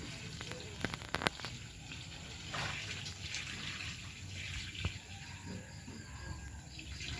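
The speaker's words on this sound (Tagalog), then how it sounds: "Kaya itataktak na po natin yung ating tubig po." Water is poured off settled arrowroot flour, a soft trickling and splashing stream with a few sharp taps of the container near the start, fairly quiet and close, with light ambient noise around it.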